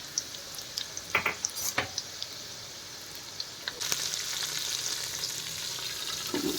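Garlic sautéing in a pan for a Tamil-style fish curry, a soft steady sizzle with a few clinks and stirring knocks, close and fairly quiet.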